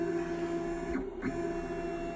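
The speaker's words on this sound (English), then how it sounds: "bring the spindle back up" A CNC 6040 router's Z axis raises the spindle, a steady mechanical stepper whine with strong tonal hum, brief and close, with a short pitch sweep midway and no talking.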